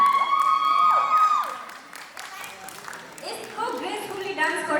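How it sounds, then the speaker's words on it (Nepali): Applause and cheering from a crowd at a group dance competition in Tokyo, Japan, with whoops and shouts rising and falling under an amplified voice and background music. "जोरदार ताली तमुदी जापान सांस्कृतिक परिवारको लागि"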